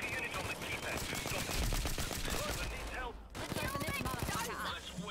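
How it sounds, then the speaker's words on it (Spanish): Rapid automatic gunfire rips through a crowd in a video game, a dense rattling stream of shots with a short break before it resumes just as hard. "tú dispara a la muchedumbre y algo daré"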